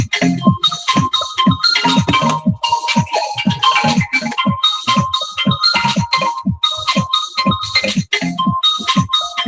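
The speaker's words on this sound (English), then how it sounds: "I know my phone's ringing." A mobile phone ringtone plays in a car, a loud, close, rhythmic electronic melody of quick repeating note bursts that continues without pause.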